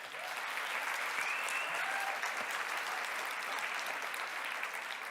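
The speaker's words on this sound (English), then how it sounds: "Give a round of applause for Olivia." A conference audience applauds Olivia with steady, dense clapping that holds at an even volume throughout, with no voices over it.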